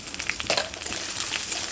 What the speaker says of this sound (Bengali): এই তেলে গোটা জিরা দিয়ে দেবো, একটু ভেজে নেবো